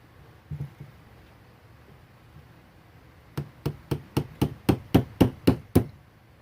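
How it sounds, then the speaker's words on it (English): A few faint knocks, then a quick run of about ten sharp metallic taps from a small hammer on an ATV carburetor, evenly spaced and growing slightly louder. "Get a little small hammer."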